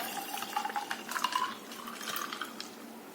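Watermelon juice poured into a glass already holding kokum syrup, a light trickling splash that runs close and fairly quiet for a few seconds with soft clinks of glass, no talking.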